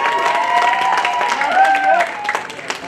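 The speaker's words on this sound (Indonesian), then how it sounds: "tepuk tangan dulu untuk tim Youth" Applause for a youth team at a Christmas service, clapping mixed with crowd noise and voices, fairly loud and thinning into scattered claps near the end.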